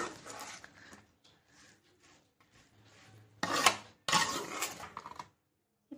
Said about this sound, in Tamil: ஆனியனையும் சிக்கனும் இந்த மாதிரி நல்லா மிக்ஸ் பண்ணிக்கோங்க.